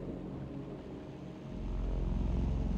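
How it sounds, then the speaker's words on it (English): A helicopter-like mechanical drone comes from the Little Nightmares II video game. It is a low, rumbling, whirring engine noise that swells louder and fuller halfway through and then holds steady. "It sounds like a helicopter almost."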